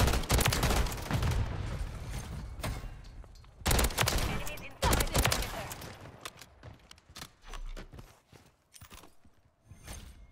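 A DG 56 burst rifle firing in Call of Duty: Modern Warfare III multiplayer: loud, close clusters of sharp gunshots in repeated bursts, with thinner distant shots and battle noise between them.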